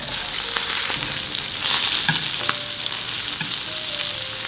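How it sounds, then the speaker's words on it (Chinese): Pieces of frozen Indian threadfin fish sizzle loudly in a pan of oil. Several scraping stirs and flips as the fish is turned break up the constant near frying hiss, and no one speaks. "这一面先给它煎上色头，给它翻一面。"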